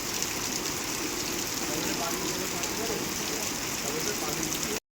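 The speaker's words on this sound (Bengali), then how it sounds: "বৃষ্টিটা ভালোই হচ্ছে" Heavy rain on the Vaishno Devi trek near Katra, a loud continuous dense roar of rainfall close by, steady from start to end.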